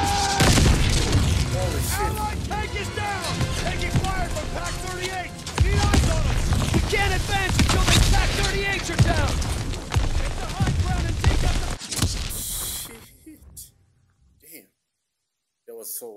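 Gunfire and explosions from PaK 38 anti-tank guns in a Call of Duty: WWII battle, heavy booms and rattling fire stacked under shouting voices, fading out abruptly near the end before a final burst.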